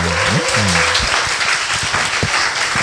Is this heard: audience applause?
yes